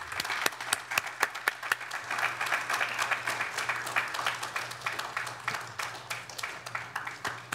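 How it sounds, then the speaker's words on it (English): A lecture-hall audience at an Earth Day sustainability awards event breaks into sustained, fairly distant applause, many hands clapping evenly with a few sharper claps standing out, and no talking over it. "let's give them a round of applause"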